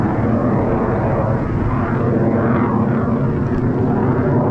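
A military jet, apparently an F-16, flying high overhead above a Swedish forest during wild berry picking, heard as a steady, loud, broadband roar that fills the whole clip without pause or voices.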